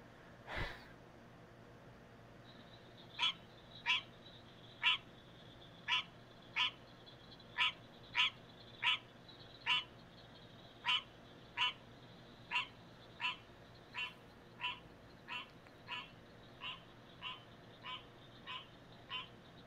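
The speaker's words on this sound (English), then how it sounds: "male green tree frogs will attempt to attract females by calling for them" A male American green tree frog calls repeatedly, sharp nasal quonk notes spaced about every half second to second in a steady series of around twenty, clear but moderately faint against quiet night background.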